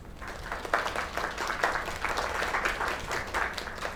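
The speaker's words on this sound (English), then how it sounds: "Another round of applause." Crowd applause in the video game Lake, a steady wash of dense clapping that swells and dips without a break across the whole stretch, fairly loud and with no voices over it.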